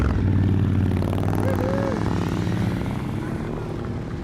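Motorcycles on a charity ride pull away together, their engines a loud, steady rumble that fades slowly as the bikes move off. Voices mix in with the engine noise.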